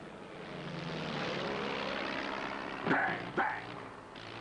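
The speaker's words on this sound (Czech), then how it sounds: "Letadlo." Propeller airplane drones overhead in a 1990s Czech-dubbed film, a steady moderate engine hum that builds and then fades, with brief voice sounds breaking in near the end.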